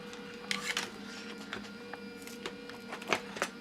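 A small fan in a desoldering vacuum machine whirs unevenly as it struggles, a steady hum punctuated by scattered clicks and rattling bursts, with no talking.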